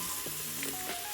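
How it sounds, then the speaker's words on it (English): Shallots sizzle in a hot pan for a lemon linguine, a steady, soft frying hiss with a few faint pops, no voices over it. "now you can hear those shallots sizzling away"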